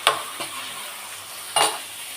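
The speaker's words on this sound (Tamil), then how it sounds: "வெங்காயம் போட்டு நல்லா வதக்கிக்கலாம்." Onions sautéing in a pan with fenugreek, curry leaves and garlic, a steady close sizzle broken by a few sharp stirring scrapes, with no talking.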